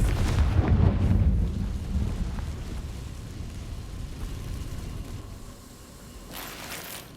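Confringo blasting spell going off in the Hogwarts Legacy video game, a heavy booming explosion with a deep rumble that slowly fades into a lingering roar, loud and alone, with no voices.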